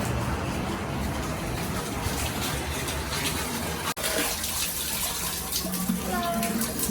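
Fresh artesian water pours steadily into containers at an outdoor spring, a continuous broadband gush that stays loud and even, briefly broken by a short interruption midway, with faint voices underneath.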